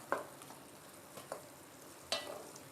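A spoon scrapes a few times through cooked raw mango in a pan as chutney is made, the quiet scrapes and clinks spaced out over a faint background hiss.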